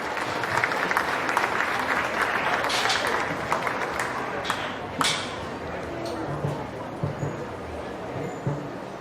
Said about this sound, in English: Give those kids a nice round of applause if we could.